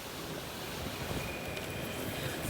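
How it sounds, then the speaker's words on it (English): Hurricane Michael's strong wind roars steadily at Panama City Beach with a thin whistle riding over a broad rushing noise, constant and loud throughout. "The whistling and the wind just continues to intensify."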